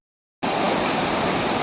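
Sea waves surge onto a beach in a loud, continuous rushing wash of water. The sound cuts in abruptly after a moment of silence and stays steady.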